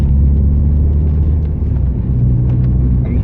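A Mazda 323F engine rumbles loudly and steadily through its exhaust, a deep, sustained drone revving toward 7,500 RPM, with no one talking.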